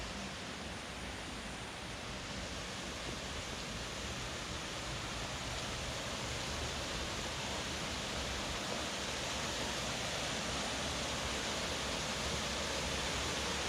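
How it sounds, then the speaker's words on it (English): Spirit Mountain Falls at Mulberry Mountain, a steady broadband rush of falling water, loud and unbroken throughout with no voices. "this is the Spirit Mountain Falls. It's worth the hike up there to it."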